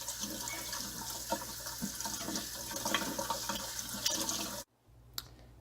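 Microgreens rinsed under running tap water, a steady splashing rush that continues for several seconds and then cuts off abruptly, leaving near silence with one faint drip.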